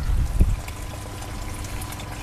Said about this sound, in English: But yeah, the water just pools down